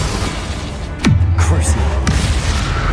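A Bombarda explosion spell in a wizarding video game goes off as one sharp boom with a falling swoosh, then a low lingering rumble, with a voice over it.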